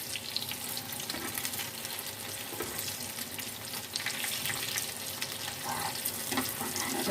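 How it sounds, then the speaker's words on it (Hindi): Egg-dipped shami kebabs frying on a tawa griddle, a steady close sizzle and crackle with soft spattering that swells slightly toward the end. "सभी कबाब को हम अंडे में डिप करके इस तरह से फ्राई कर लेते हैं तवे पे"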